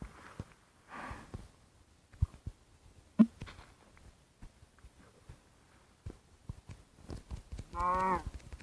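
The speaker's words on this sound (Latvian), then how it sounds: "Gotiņa." A cow moos in a video game, a single drawn-out call near the end after a mostly quiet stretch of faint scattered game noises and footsteps.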